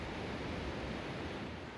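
A broad, continuous roar of Niagara Falls fills the air, dense and steady like heavy rushing spray, with no other sounds.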